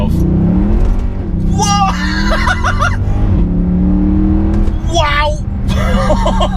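A 490 bhp Mercedes C63 AMG accelerates hard in first gear, its engine roaring loudly and climbing in pitch before a shift, while occupants exclaim excitedly over the sustained drone.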